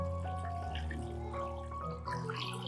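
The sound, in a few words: clean water being poured into a bowl of eggs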